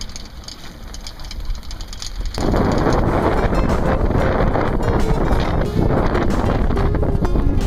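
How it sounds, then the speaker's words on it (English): Strong wind buffets a sailboat on a run toward Chicago, gusting against the microphone and jumping to a louder, constant roar partway through, with a low engine hum beneath. "A little heavy with the wind."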